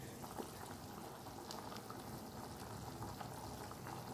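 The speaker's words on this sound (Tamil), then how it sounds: "நல்லா கொதி வந்துருச்சு." Tamil fish curry (meen kulambu) bubbling at a steady rolling boil in a pot, a dense, even simmering hiss with soft pops and bursts, close and continuous.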